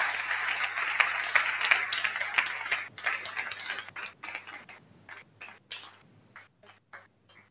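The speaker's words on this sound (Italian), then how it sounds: "Un applauso a Terry Bonaldo" Audience applause at an award ceremony for the Prunola prize, starting as dense clapping and thinning out into scattered individual claps that fade toward the end.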